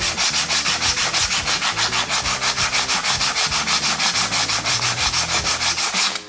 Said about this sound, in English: I'm taking some sandpaper and just giving it a little light sand